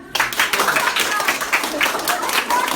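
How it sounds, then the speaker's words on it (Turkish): Classmates in a school classroom clapping for two boys, a brisk, loud burst of many hands that starts abruptly and keeps going, with voices talking over it. "İkisine bir alkış alalım."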